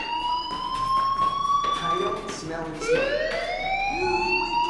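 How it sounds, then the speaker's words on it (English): A fire alarm wails in the video game Life Is Strange, a loud rising and falling electronic siren tone that sounds throughout, with a few faint voices in the background. "Hey, do you hear that fire alarm?"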